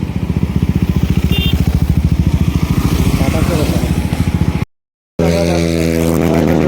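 A motorcycle engine idles close and loud with a steady rapid putter, then cuts out briefly before a revving, higher-pitched engine tone resumes.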